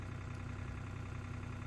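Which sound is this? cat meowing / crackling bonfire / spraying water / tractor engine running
tractor engine running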